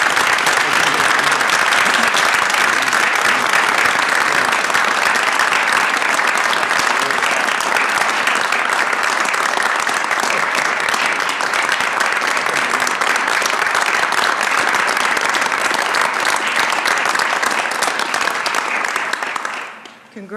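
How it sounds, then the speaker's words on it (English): Sustained audience applause at a university system board of regents public session, loud and dense clapping from a full room, continuing steadily for about twenty seconds before stopping abruptly. "Please give them a round of applause."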